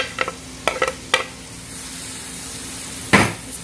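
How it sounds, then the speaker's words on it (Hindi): Green chilies and capsicum tossed and frying in a pan while making chicken sliders, with a low sizzle under a few sharp stirring scrapes and clatters, one louder burst near the end. "इसके बाद डालेंगे हम हरी मिर्च, इसको भी थोड़ी देर के लिए भून लेंगे हम।"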